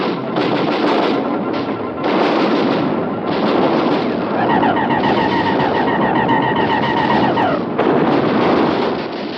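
Heavy artillery batteries firing in a radio drama of a Martian invasion, a dense continuous barrage of booming gunfire and blasts with echo, loud throughout, joined midway by a warbling electronic ray tone.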